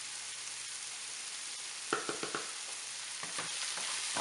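Meatball soup ingredients sizzle in a pan with a steady frying hiss, while a few quick scraping stirs cut in near the middle and again toward the end.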